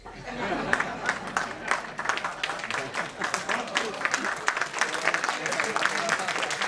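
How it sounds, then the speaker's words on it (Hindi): Enthusiastic audience applause in a hall at a community program, dense ragged clapping that builds and holds steady, with some chatter and light laughter mixed in from the crowd. "ये तालियां कल्याण जी भाई के लिए जानी चाहिए, जोरदार तालियां"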